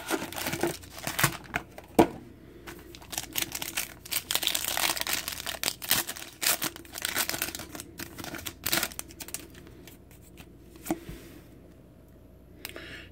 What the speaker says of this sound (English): Ripping open box two.